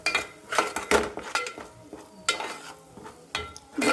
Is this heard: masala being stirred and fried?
yes